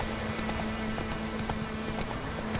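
Hooves of Roach, the horse in Witcher 3, pound in a quick, steady gallop rhythm, moderately close and continuous, with no talking over it.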